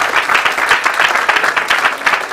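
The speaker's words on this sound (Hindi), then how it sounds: "एक बार जोरदार तालियां बजा दीजिए." Steady, loud applause from an audience at an institute's awards function in Noida, dense clapping sustained evenly throughout without a break.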